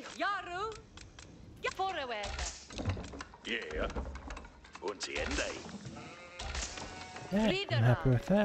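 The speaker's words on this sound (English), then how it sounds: "Let's grab that sheep." Sheep bleats in a video game, several wavering calls at the start and end, heard over someone talking and clicking through much of the clip.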